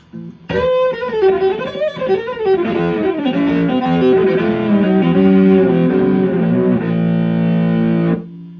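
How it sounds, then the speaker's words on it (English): An electric violin played through heavy distortion, a gritty sustained melody sliding between notes for several seconds before cutting off. "we can have distortion, of course."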